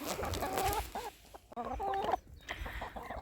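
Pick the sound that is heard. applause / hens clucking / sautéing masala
hens clucking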